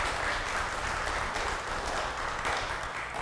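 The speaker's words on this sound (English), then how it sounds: "So if you all want to give yourselves a round of applause" Youth volunteers at a celebration give themselves a round of applause, a loud, dense, continuous roar of clapping from a sizable crowd, even in level from start to finish.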